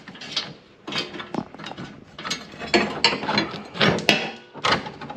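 Ratchet wrench clicking as it backs out a 14mm bolt while fitting Southern Style Offroad Stage 2 high clearance protection, with repeated bursts of quick metallic pawl ticks and short pauses, close and fairly loud.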